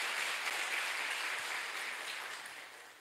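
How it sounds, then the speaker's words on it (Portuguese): Applause welcoming a guest at a training gathering, a faint, distant patter of many hands clapping that holds steady and gradually fades out over a few seconds. "a gente acolhe com uma salva de palmas"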